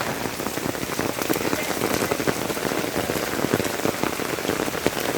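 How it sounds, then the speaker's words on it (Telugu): Heavy rain pours steadily onto an old village street and rooftop in Kadapa, a dense, constant hiss and patter of drops close by with no pauses. "వర్షం పడుతూ ఉంది."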